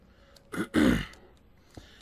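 A single close throat clearing, a short rough rasp followed by a longer guttural one, in an otherwise quiet space.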